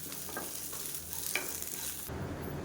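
Shallots and curry leaves roast in a hot pan, a brief crackling sizzle with a couple of stirring scrapes; the sound cuts off sharply near the end.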